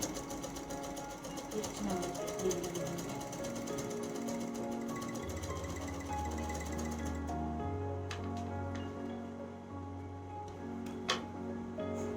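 Merrow overlock sewing machine stitching blue thread, a steady close mechanical whir with rapid ticking that runs continuously, shifting in pitch partway through as the motor speed changes.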